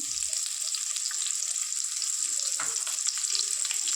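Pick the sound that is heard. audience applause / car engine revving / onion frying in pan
onion frying in pan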